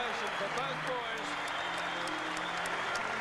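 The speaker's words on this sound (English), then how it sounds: "And a standing ovation for both boys" A huge boxing crowd at the Melbourne Sports and Entertainment Centre gives a standing ovation, with dense, sustained applause filling the whole stretch at an even level, under a speaking voice.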